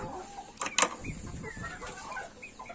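Chickens cluck softly nearby, with a couple of sharper, louder squawks early on over a quiet farmyard background.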